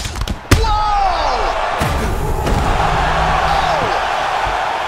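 Heavy punches thud in a UFC 4 fight, Khabib Nurmagomedov against Jose Aldo, with a sharp slam near the start and further dull impacts over a steady crowd murmur.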